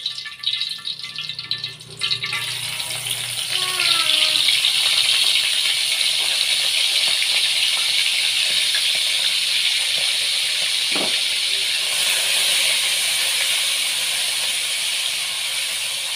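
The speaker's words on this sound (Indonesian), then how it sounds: "Lanjut goreng ikan asinnya." Salted fish hits hot oil in a frying pan and breaks into a loud, close, continuous sizzle and hiss, with light spattering crackles that hold steady for well over ten seconds.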